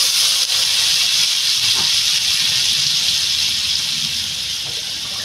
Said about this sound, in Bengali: আমি এবার বন্ধুরা এটাতে পরিমাণ মতো জল দিয়ে দেবো।